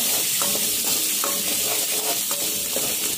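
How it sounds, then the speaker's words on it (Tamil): Chopped ginger fries with garlic in hot oil in a pan while being stirred, a steady loud sizzle with rhythmic scraping strokes of the spoon repeating about every half second. "இஞ்சி போட்டு நல்லா கிண்டி விடுங்க."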